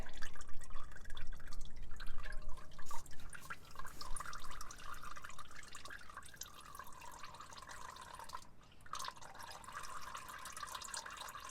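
Fluid drains slowly and drips steadily from a Nissan Qashqai J10 petrol engine during an outdoor service, a continuous trickle with soft drops over faint wind noise.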